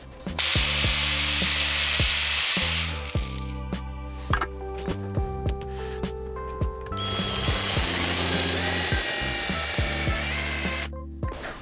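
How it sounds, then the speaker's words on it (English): Power tools drill into and cut through the metal fittings of a BMW F21 seat being stripped for an E36 Compact swap, loud close bursts of whirring and grinding separated by short pauses. "I'm going to drill that out, I'm going to cut that and take this off so that I've got it ready to go into the E36"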